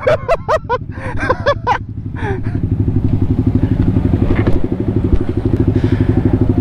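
Big bikes revving and racing at a roadside drag race in Mangatarem, Pangasinan, a loud, steady engine drone with rapid throbbing pulses. Short vocal sounds come in over the first seconds.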